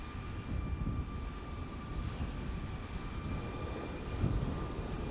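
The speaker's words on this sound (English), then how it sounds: "Got a great touchdown though" Airliner rolling down the runway after touchdown in Microsoft Flight Simulator, a steady low engine and tire rumble with a faint cockpit tone, fairly constant throughout.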